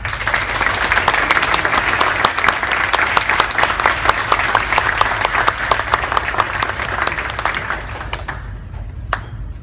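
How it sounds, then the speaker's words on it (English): A hackathon audience applauds its speakers with loud, dense, sustained clapping full of sharp individual claps, which thins out and dies away near the end. "can we have a big hand of applause for our speakers, please?"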